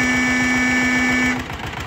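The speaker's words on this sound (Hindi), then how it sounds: "ओरिजिनल हॉर्न है।" A loud, steady buzzing original horn on a 1970 HMT tractor holds for over a second and then cuts off, over a low, chugging engine idle that continues afterward.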